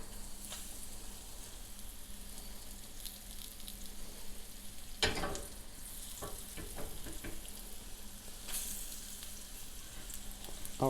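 Crab cakes sizzle steadily in a hot pan, a dense, even frying hiss that runs throughout, with a louder crackling burst midway and a few sharper spits later on. No voices.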